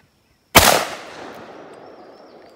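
A single close, loud blast from a Hatfield 28-gauge shotgun that has not been cleaned or oiled, with a sharp onset followed by a long fading echo.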